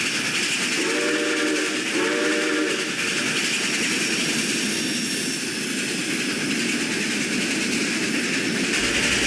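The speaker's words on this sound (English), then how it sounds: "Chaz passed by whistling cheerfully to Kevin." A model railway steam locomotive sounds its whistle in two short bursts near the start, over a steady loud hiss and rolling rail noise as it passes by.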